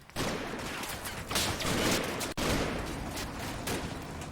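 Sustained battlefield gunfire in the WWII tactics game Combat Mission: Battle for Normandy, a dense fusillade of rifle and machine-gun shots with a brief cut midway, loud and continuous with no talking.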